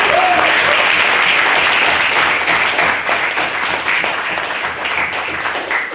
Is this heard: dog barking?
no